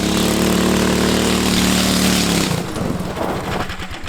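Cheap 15 horsepower Temu engine on a $100 go-kart, loud and close, running at a steady buzzing high idle before dropping abruptly to a lower, choppy, sputtering chug.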